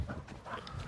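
A dog pants and scrambles close by in a short, quick burst of breathing and movement.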